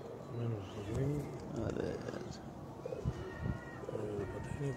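Rampuri pigeons coo softly in a group, low rolling calls repeating through the scene at moderate distance, under a man's speech and a busy background murmur.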